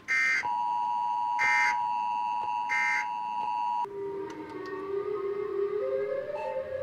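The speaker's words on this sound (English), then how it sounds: "it's like the TV warning sound" Minecraft's Siren Head mob sounds a TV-style warning signal: three loud, evenly spaced electronic beeps over a steady tone, then a wavering, rising electronic drone.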